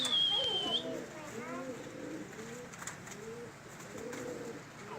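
Pigeons in an orchard give repeated soft, throaty coos in short rolling phrases, fairly near, with people talking and children's voices in the background.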